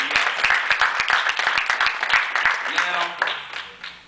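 Audience applause honoring the Phi Beta Sigma fraternity, a dense, steady burst of many hands clapping close by for about four seconds before it starts to fade, with scattered sharper individual claps standing out.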